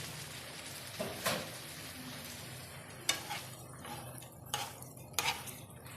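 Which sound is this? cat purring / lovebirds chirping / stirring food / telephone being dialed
stirring food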